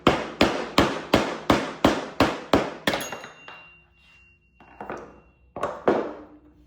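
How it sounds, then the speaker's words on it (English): A hammer drives a chisel to break the outer casing off a bearing during a control arm upgrade on a 3000GT build, a rapid run of about ten sharp, loud metallic strikes, then a pause and a few scattered knocks. "I'm going to use this chisel and I'm going to chisel out."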